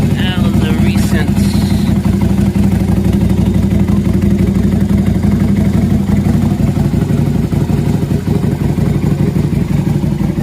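Motorcycle with 18,000 miles and a hydraulic clutch, its engine running steadily and loudly at close range with a throbbing, clattering tone, while a voice talks over it.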